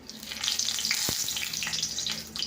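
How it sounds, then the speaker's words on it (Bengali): Bay leaves go into hot oil in a pan, sizzling and crackling, with a single knock near the start and a steady hiss that continues to the end. "দেখো তেল আছে, তেজপাতা দিচ্ছি"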